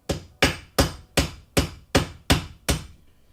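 Eight steady, evenly spaced hammer blows striking leather, each a solid thud with a short ring, close and loud.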